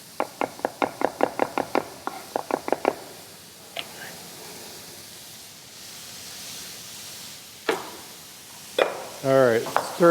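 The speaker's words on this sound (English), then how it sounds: "stir that garlic in" Garlic is stirred into sautéing turkey in a pan: a burst of rapid close spoon knocks, then a quiet low sizzle with a few scraping clatters.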